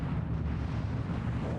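Heavy, continuous rumbling explosions from a massive Allied air bombardment of northern France, a dense roar of blasts with no breaks across the short stretch.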